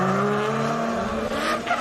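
Drift cars launch side by side in a British Drift Championship battle, engines screaming as they climb through revs with tyres squealing, a loud, continuous rush of engine and skid noise.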